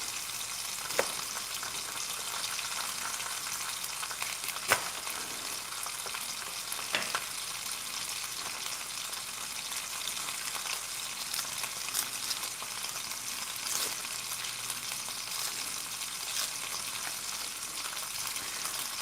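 Onions fry in a pan with a steady, bright sizzle and crackle that holds at an even level throughout, broken by a few faint clicks and stirs, with no talking.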